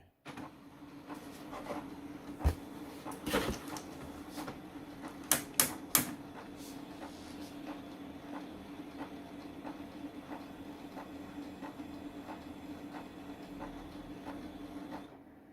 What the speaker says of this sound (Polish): Drukarka zainicjalizowała.